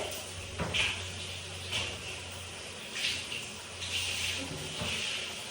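Soft rhythmic squeaks and rubbing strokes of a cloth wiping shower glass, repeating about once a second over a faint background hum.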